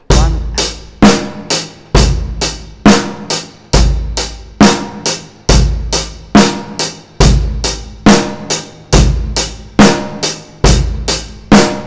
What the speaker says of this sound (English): So you can again play the bass drum on beats 1 and 3 and sound something like this.